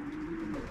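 A young racing pigeon gives a brief, low coo nearby, a soft throaty tone over faint background noise.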